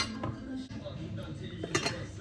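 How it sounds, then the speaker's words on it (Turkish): A glass teapot is handled in a home kitchen, giving faint light clinks and knocks against a soft, muffled background. "Şöyle bir cam çaydanlık almış bana."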